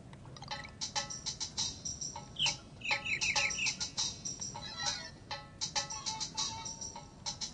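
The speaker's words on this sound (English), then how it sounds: "Okay, there you go. Birds." Recorded birdsong played back from a One Laptop Per Child laptop: a dense stream of chirps, tweets and rapid trilling calls in quick repeated bursts, fairly close and steady throughout, with no talk.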